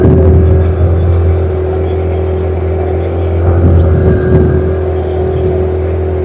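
A motorboat engine drones steadily and loudly throughout on a lake ride, a low continuous hum with slight swells in intensity.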